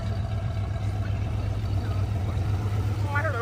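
Old American muscle car prototype in matte black with its engine opening up, a steady low rumble near and moderately loud under faint chatter, ending with a brief rising rev.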